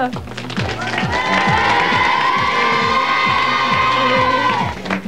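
A crowd at a Baladins d'Aywaille event claps and cheers loudly in a hip hip hurrah, with shouting voices, some children among them, over rhythmic rapid clapping that stays strong throughout.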